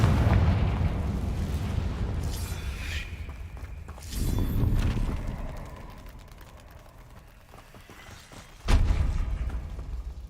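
Confringo blasting spell explosions in the video game Hogwarts Legacy: deep booming blasts with rumbling low end, one at the start, another around four seconds and a sharp loud one near the end, separated by quieter rumbling decay.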